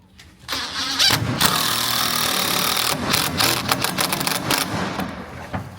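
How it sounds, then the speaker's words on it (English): A power driver runs a toenail screw into a cedar shed rafter during shingle roof panel assembly, with a loud, sustained whirring drive of several seconds, then a few shorter bursts as it finishes. "now Kevin's going to put a toenail to hold it before removing the clamp"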